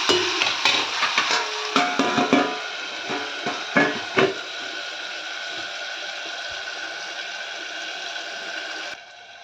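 Onions and tomatoes sautéing in a pan for egg gravy: a run of rapid spoon scrapes and knocks over steady sizzling, then a continuous even hiss of frying that cuts off abruptly.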